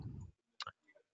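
A computer mouse clicks twice in quick succession during a webinar demonstration, the clicks close and crisp, with a brief burst of talk just before and faint voice afterward.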